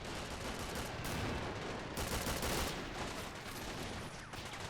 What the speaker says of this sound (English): That 90mm mortar's kicking into work now.